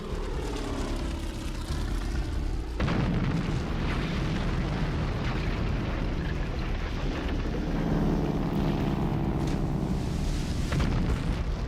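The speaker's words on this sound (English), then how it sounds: "the bombers have scored direct hits on the battleships California, Oklahoma, and Arizona" Bombs explode during the attack on Pearl Harbor, with a deep booming roar and rumbling blasts over the drone of aircraft engines, loud and continuous and not mixed with talk.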